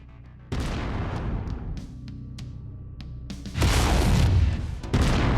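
Mech weapons in MechWarrior 5: Mercenaries fire at an enemy cockpit, a series of loud close booming shots and bursts with sharp cracks and ringing tails, no talk.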